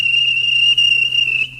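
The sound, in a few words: guard's whistle being blown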